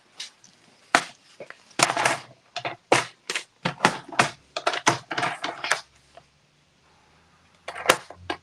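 Card bases scored on a score board: a series of sharp, close clicks and scraping strokes in uneven bursts, some grouped rapidly, with short quiet gaps between, and no talking.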